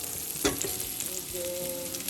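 Garlic stirred as it fries in a pan for an Ilocano pinapaitan dish, a steady close sizzle with a sharp scrape of the utensil near the start and a faint hum beneath.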